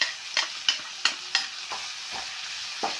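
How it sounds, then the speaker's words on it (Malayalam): Crushed ginger and garlic frying in coconut oil while being stirred, giving a steady bright sizzle broken by several sharp spoon scrapes against the pan at a quick, uneven rhythm. "നമുക്ക് കുറച്ച് വെളിച്ചെണ്ണ കൂടി വീട്ടാം. ഇതൊക്കെ ഒന്ന് ഫ്രൈ ആവണ്ടേ."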